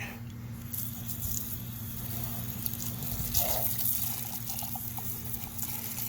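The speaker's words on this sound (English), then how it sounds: "And we'll rinse off the container a little bit." Running tap water splashes into and over a plastic rock tumbler container as it is rinsed, a steady close faucet stream with small sloshing and squishing shifts throughout, no talk.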